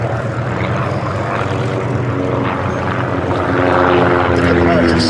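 A Percival Prentice, a large single-engine RAF trainer, drones steadily with its propeller engine at an airshow, loud and continuous and swelling slightly toward the end, with people talking over it.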